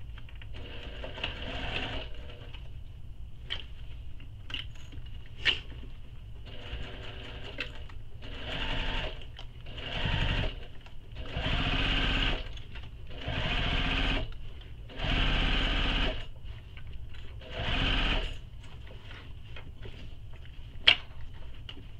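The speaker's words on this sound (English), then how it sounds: "I'm going to sew this using the seam allowance given in the pattern." A sewing machine stitches a handbag seam in a series of whirring runs of a few seconds each, separated by pauses and faint handling clicks, close and steady with no talk.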